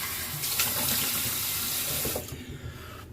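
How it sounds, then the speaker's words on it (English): Water runs from a tap into a sink for rinsing after a straight razor shave, a strong, steady splashing gush that stops abruptly near the end, leaving quiet trickles. "All right, let's get rinsed off."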